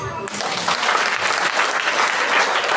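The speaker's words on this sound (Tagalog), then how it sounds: "Ang pumapayag ay pumalakpak." A church congregation at a seventh-year anniversary service bursts into loud, dense applause that holds steady throughout, with a voice briefly audible at the very start.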